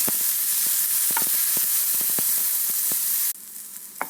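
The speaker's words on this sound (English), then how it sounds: "And then the minced onions. I'll fry until the onions turn translucent." Minced onions frying in a pan: a loud, bright sizzle dotted with crackles and stirring clicks, close up, then dropping abruptly to a quieter sizzle near the end.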